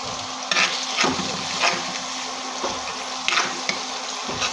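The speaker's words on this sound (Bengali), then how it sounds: "হলুদ, মরিচ, লবণ আর ধনিয়ার গুঁড়া দিয়ে পেঁয়াজটা ভেজে নিব হালকা" Onion fries lightly with turmeric, chilli, salt and ground coriander in a pan, a steady close hiss with a few soft stirring scrapes at irregular intervals.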